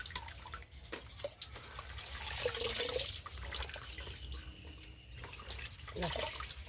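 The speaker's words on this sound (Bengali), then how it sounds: "শাকটা একটু ভালো করে ভিজিয়ে নেবো নিয়ে তারপর ভালো করে একটু ধুয়ে ধুয়ে তুলে নেবো" Leafy greens being soaked and rinsed in a basin of water at home give soft sloshing and trickling, with splashes rising and falling close by and a faint voice now and then.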